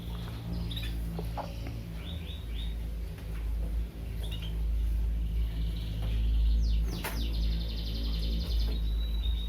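Canaries in breeding cages chirp and tweet in quick bursts over a steady low hum, with faint rustling and pattering close by.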